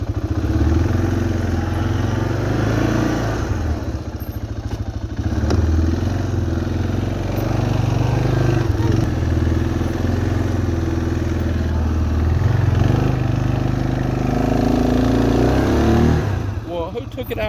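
An ATV engine drives steadily while exploring ranch land, a loud continuous mid-pitched drone with clattering and occasional revving under people talking.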